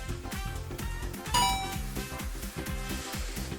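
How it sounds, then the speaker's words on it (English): Doorbell-style quiz buzzer chime from the video game AI The Somnium Files: one bright ding-dong rings out over a looping, busy game music track, with no talk. "Ding dong! Oh, and Team Popo presses the button."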